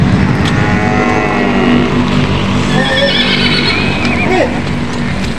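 Horses neigh and whinny repeatedly while being loaded at a livestock auction market in Lucena, loud and close over a constant rumble of engines and crowd noise, with a few voices in the background.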